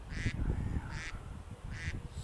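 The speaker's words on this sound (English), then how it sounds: "See the duck swimming in the water." A duck on Hungry Horse Reservoir in Montana calls three times in short, evenly spaced bursts, clear above a steady low outdoor rumble.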